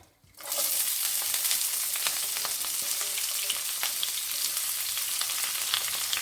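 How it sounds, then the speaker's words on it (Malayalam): Onion, dried red chilies, green chilies and curry leaves sauté in a hot pan for a snake gourd thoran, giving a steady, loud, close sizzle and crackle that starts abruptly and runs unbroken with no voices. "ഇതെല്ലാം കൂടി ഇട്ട് നമ്മളൊന്ന് വഴക്കിയെടുക്കുകയാണ്"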